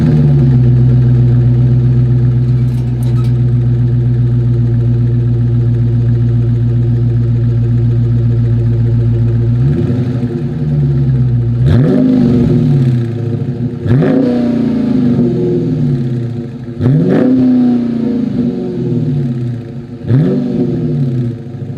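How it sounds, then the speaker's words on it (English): A 2021 Dodge Charger Scat Pack's dual exhaust with chrome tips holds a deep, steady idle, then barks through five sharp revs at intervals, each rising and falling back, loud and close with no talk. "So without further ado, here is that exhaust clip."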